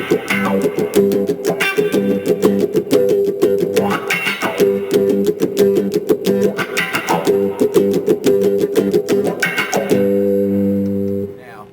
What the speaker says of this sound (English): Put the wah in, sounds like this.